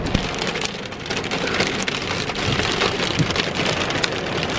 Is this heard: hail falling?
yes